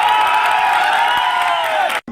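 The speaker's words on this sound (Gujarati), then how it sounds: "એકવાર તાળીઓથી વધારો સાહેબ।" A large crowd at a political party rally claps and cheers loudly and continuously, a dense wash of applause with shouts that cuts off abruptly at the end.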